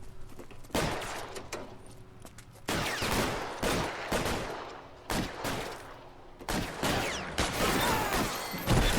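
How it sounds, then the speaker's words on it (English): Repeated gunfire rings out in LA Noire, with several loud, sharp bursts of shots at irregular intervals over a steady game background, and no talking. "Stop shooting at me."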